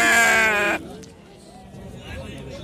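Pregnant sheep at a livestock market give one loud, harmonic bleat close by, which breaks off sharply and gives way to quieter market murmur and faint voices.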